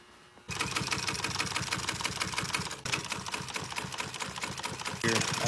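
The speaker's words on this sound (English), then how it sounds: "then sew these two together, and then sew these two to these three" A sewing machine stitches pontoon boat seat upholstery in a fast, steady mechanical chatter that runs close and continuous, with one brief pause partway through.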